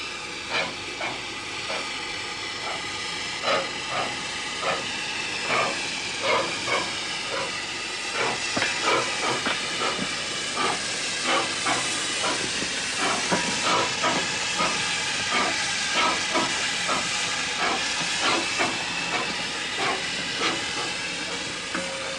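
The Sans Pareil replica steam locomotive sends out a steady series of sharp chuffing steam blasts over a constant hiss, the beats repeating at an even rhythm throughout, loud and close with no talking.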